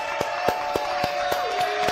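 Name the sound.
studio audience applause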